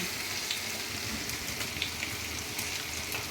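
Tomatoes sizzle in a frying pan as spices are added, a steady, even crackle of frying carries through with light stirring and no voices.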